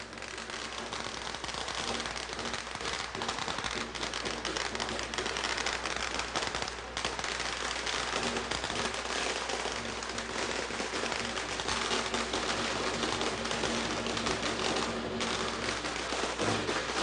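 Dense, continuous crackling and popping of many firecrackers going off at once during a New Year celebration with dragon parades, loud and sustained with no pauses.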